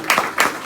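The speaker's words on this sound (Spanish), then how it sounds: "Denle ese aplauso al Señor si él lo quiere" A church congregation claps for the Lord in a short, loud burst, with rhythmic palm strikes in quick pulses.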